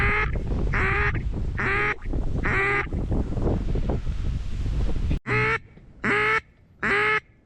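Duck quacking outdoors on a snowy, windy duck hunt: loud, near, evenly spaced quack bursts, four in a row, then a pause of rustling, then three more.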